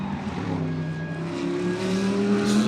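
Extreme SuperCars race cars brake into turn 5, Cape Town corner, their engines dropping and then rising again in layered, nearby roars as several cars pass.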